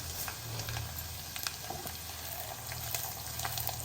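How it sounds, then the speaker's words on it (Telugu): Garlic, dry red chillies and urad dal crackle in hot oil as a tempering for cabbage dal with raw mango, giving a soft, continuous sizzle with scattered pops and light stirring ticks. "వెల్లుల్లిపాయలు వేగుతున్నప్పుడు మనం ఎండుమిరపకాయలు వేసాం కొద్దిగా మినపప్పు కూడా వేసుకున్నాం"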